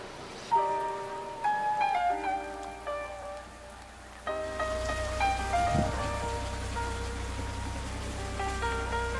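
Steady rain patters on surfaces in the páramo highlands during an ultracycling ride, a continuous loud hiss under sustained musical tones, with no voices.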